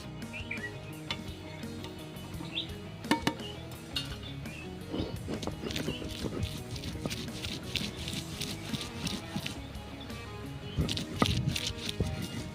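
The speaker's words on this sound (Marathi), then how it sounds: "इथे आपण मिरच्या लसूण आणि जिरे घेतलेले आहेत आता ही छानपैकी आपण पाट्यावरती वाटण करून घेऊया" Chillies, garlic and cumin being ground on a flat grinding stone make a soft, steady scraping and rubbing with small clinks. It runs continuously and fairly faintly.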